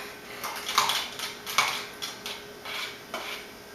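A spoon clinks and scrapes around a bowl while cream cheese filling is mixed, a few quick close taps and rubs in a short burst with no talking.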